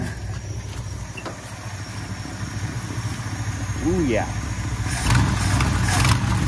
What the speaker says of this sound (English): Got a little exhaust leak over there.